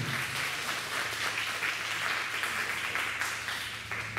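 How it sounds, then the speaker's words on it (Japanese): Audience applause at an acoustic music festival in Nagaoka, Aomori, a dense steady wash of many hands clapping that holds at an even level for several seconds with no talk over it. "拍手ありがとう"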